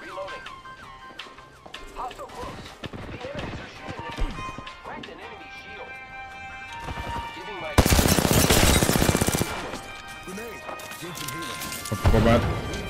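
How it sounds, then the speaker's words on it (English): Enemy gunfire in a video game, repeated rapid bursts of shots that get louder and denser toward the end, mixed with game effects and players talking over it. "The enemies are shooting at me."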